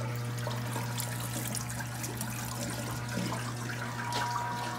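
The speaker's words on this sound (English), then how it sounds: "right now it's dumping out the water." An ice machine dumps out its water in a steady, continuous rush and trickle over a constant low mechanical hum, close by with no talking.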